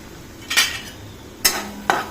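A utensil scrapes through semolina and gram flour roasting in ghee in a pan, three distinct short stirring scrapes spaced apart against quiet background.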